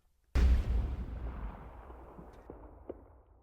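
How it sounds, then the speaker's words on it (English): One sharp gunshot cracks out near and loud, followed by a long decaying echo with a few fainter pops trailing off, as in an alley between buildings. "along the way, she heard another gunshot."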